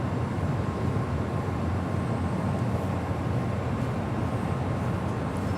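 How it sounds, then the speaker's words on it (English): A JetBlue Airbus A320 taxiing toward runway 25 right at Los Angeles International Airport produces a constant dense engine roar and broadband rumble, loud and unchanging throughout, with no voices. "that is JetBlue A320 in the Red Sox livery, heading on over to 25 right"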